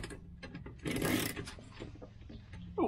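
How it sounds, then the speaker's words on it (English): A ratchet and a breaker bar with 19mm sockets turn bolts on the corner steadies of a Rapido 9090f motorhome, giving faint, close, irregular mechanical clicks and a brief louder scraping grind. "Got one on a breaker bar there, and one on a ratchet"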